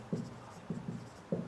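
Marker or chalk strokes on a classroom board during a vocabulary lesson form short, close scratchy pulses in three quick groups, faint and without speech.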